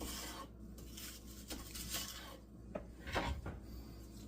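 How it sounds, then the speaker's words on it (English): A knife slicing through a roasted Cornish hen on a cutting board, with close, scraping and rasping cuts in short irregular strokes and a few firmer taps of the blade against the board. "just get it onto the cutting board like so. And just proceed to slice it"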